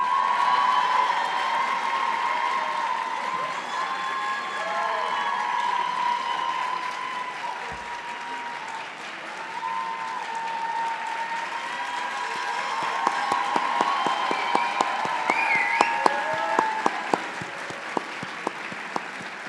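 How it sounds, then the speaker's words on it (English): Audience applause at a Middle Eastern and North African student graduation celebration, steady sustained clapping from a large crowd in a hall with some cheers, building to sharper individual claps near the end. "please give another round of applause for the MENA graduating class of 2026"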